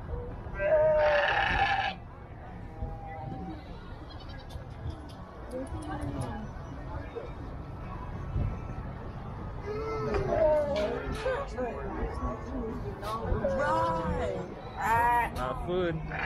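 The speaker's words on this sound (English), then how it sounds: "Look at that little goat." Goats bleat at a haunted family farm during a Halloween visit, several wavering cries near and farther off, with people talking and a crowd murmuring underneath.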